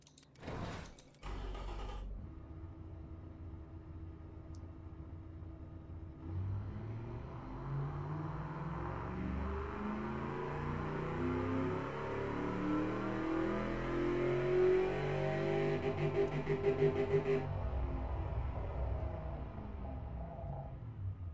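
A loud, deep 426 Hemi V8 in a 1969 Dodge in the video game Automation revs up with a throaty, rumbling exhaust through big dual pipes with one straight-through muffler, holding a steady roar for several seconds before easing back, with no talking.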